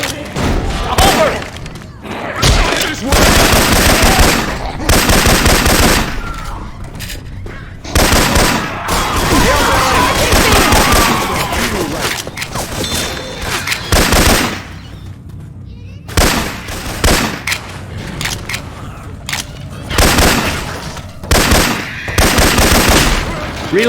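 Syphon Filter weapon sound effects play inside Left 4 Dead 2 as loud, dense bursts of automatic machine-gun fire, broken by short pauses and mixed with heavy thuds and blasts across the whole stretch.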